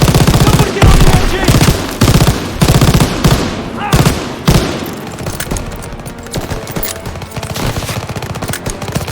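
Machine gun fire rattles loud and close in a Call of Duty WW2 D-Day beach battle, with long rapid bursts, short pauses, booms and heavy battle noise all the way through.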